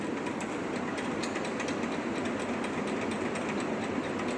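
A universal governor apparatus runs steadily on a test rig at about 253 RPM, giving a continuous mechanical whir with a faint rhythmic ticking over broadband rattle, close and even throughout with no talk.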